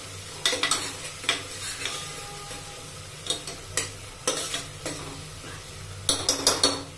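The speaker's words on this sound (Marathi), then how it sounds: "आता आपण यामध्ये अद्रक लसणाची पेस्ट घालू, ती पण छान परतून घ्यायची अशी।" Ginger garlic paste is being stirred and sautéed in a pan: a soft background sizzle broken by repeated scraping strokes of a spatula against the metal, spaced irregularly and growing into a quick cluster at the end.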